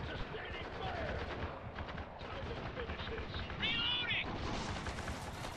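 Heavy gunners fire on the player in the video game Spec Ops: The Line, producing a dense, continuous run of automatic gunfire that stays loud throughout, with other battle noise mixed in.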